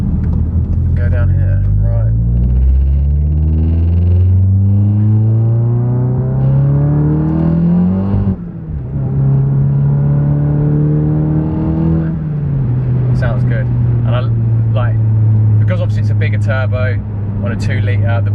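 A 500bhp 2-litre VW Golf GTI accelerates hard on a country road, heard from inside as a loud engine climbing through several gears with a brief dip at a shift. A voice talks over the later part.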